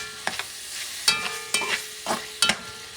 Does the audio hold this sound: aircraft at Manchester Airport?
no